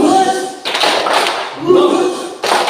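Hands clapping in a group clapping game during a school meeting, with several people striking in loose bursts that are partly blurred by voices and room noise.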